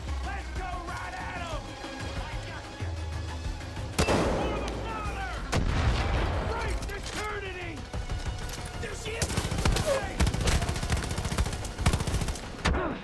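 Rocket launcher firing in Far Cry 5, with loud booming blasts and gunfire bursts at about 4 s and again around 9–13 s, under excited commentary and background game sounds.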